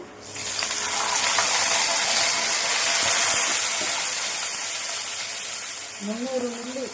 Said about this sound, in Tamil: தண்ணி ஊற்ற போகிறேன்.